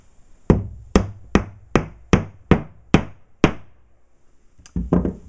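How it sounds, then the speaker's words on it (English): A hammer taps a clear plastic drywall anchor into a hole in the wall: eight sharp, evenly spaced knocks, then a short pause and a couple of quicker final hits, close and distinct. "This would be where you would want your hammer."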